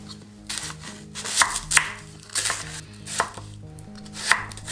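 A restored old kitchen knife chops through an onion on a board, giving a steady run of crisp, close cuts with sharp impacts every half second or so. No voices.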